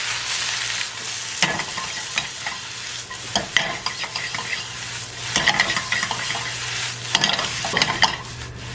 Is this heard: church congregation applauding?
no